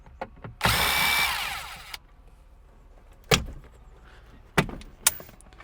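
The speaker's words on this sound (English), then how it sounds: "Undo the two T20s on this handle." A power tool whirs for about a second, loosening the two T20 Torx screws on an interior handle of a Renault Clio 172/182, followed by a few sharp clicks and knocks of trim being handled.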